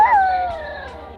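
A small dog, a seven-year-old female, gives a loud, close, drawn-out howl that slides down in pitch and fades into a whimper.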